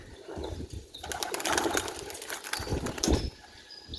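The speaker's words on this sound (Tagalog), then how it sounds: "yung mga kalapati ni Mon, no?" A burst of flapping wings and fluttering as trained pigeons take off together in high wind, close and busy for a few seconds before settling.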